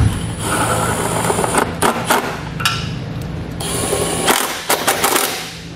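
Screws are driven back into the bottom of the bumper on a 2019 Jeep Wrangler with a ratcheting tool, giving loud, close bursts of mechanical clicking and whirring separated by short pauses.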